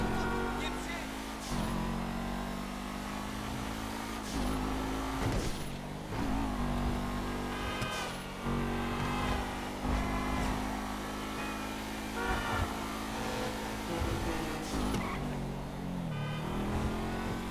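Massacro sports car in GTA 5 revving, its turbo whooshing and whistling over a steady engine drone, loud and close with repeated throttle blips and rising pitch, a voice talking over parts of it.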